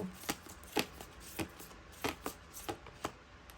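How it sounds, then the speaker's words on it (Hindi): Tarot cards being shuffled and drawn from the deck, a series of crisp, separate riffling snaps at an irregular pace, close and fairly quiet with no talking. "3 कार्ड्स और निकालेंगे गाइज, 10 कार्ड्स की रीडिंग करने वाली हूँ।"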